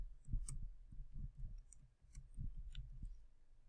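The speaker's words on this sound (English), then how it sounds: "Type in your last name." A computer keyboard is typed on quietly, with a short run of soft, irregular key clicks close by and no voices.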